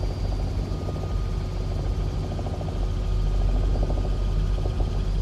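A Robinson R66 helicopter flying in Microsoft Flight Simulator 2024, a constant loud turbine whine over a deep, steady rotor chop that holds throughout.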